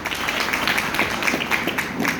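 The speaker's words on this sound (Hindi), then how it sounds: "ये महेंद्र जी हैं, जोरदार तालियां हो जाए पहले तो उनके लिए" An audience claps enthusiastically to welcome a newcomer at a gathering, a dense, sustained burst of many hands clapping together at steady loudness, with no pauses.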